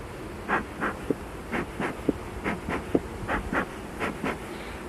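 Honeybees at a hive colony buzz in repeated swells close to the microphone, with a steady low hum and light wind noise underneath.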